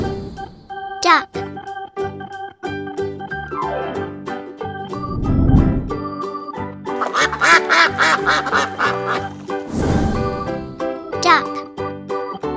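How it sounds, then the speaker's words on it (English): Duck quacks come in a few short, clustered bursts over light, tinkling music, with a voice speaking in between. "Duck."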